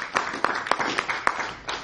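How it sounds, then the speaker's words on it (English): A church congregation claps during a worship gathering, with sparse, irregular claps at an even moderate loudness over a steady background murmur. "Give a clap up before the Lord."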